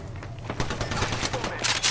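Blaster gunfire hitting the player in Star Wars Battlefront: rapid bursts of shots crackle over one another in a dense volley, with a voice speaking underneath.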